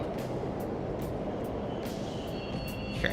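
Steady rumbling of subway trains running through a station in the video game Persona 5 Royal, a continuous low roar with faint high rail squeals toward the end, no talking.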